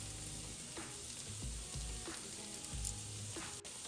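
Cumin and turmeric sizzle in hot oil in a pan, a steady frying hiss broken by a few soft scraping stirs of the spatula and nearby clinks.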